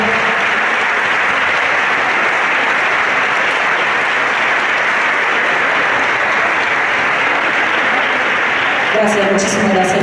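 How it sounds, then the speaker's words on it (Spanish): Sustained, loud, dense audience applause for an orchestra at a Córdoba concert, steady throughout, with a voice briefly rising over it near the end. "Un aplauso para ellos,"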